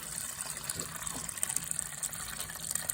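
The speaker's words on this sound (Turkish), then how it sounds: "Musluğu sonuna kadar açtım." Water runs from a fully opened tap into a paint-can chicken waterer, a steady, close rushing and splashing with no pauses across the short clip.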